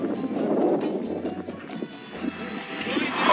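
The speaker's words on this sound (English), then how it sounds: "It's a little windy, sorry" Gusty wind at a beach in Baja, Mexico buffets the microphone with low rumbling thumps, while people talk underneath.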